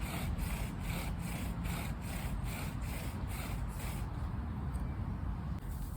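A wooden bow drill spindle grinds against a wooden hearth board in steady back-and-forth strokes, a close, loud rasping friction with a regular rhythm of roughly two strokes per second.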